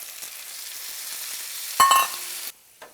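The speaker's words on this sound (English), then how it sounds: "My onions are just about done now, and so I'm gonna add the pre-chopped 2 tomatoes." Frying onions sizzle steadily in a pan, then chopped tomatoes drop in with a sudden louder burst of hissing before the sizzle cuts off.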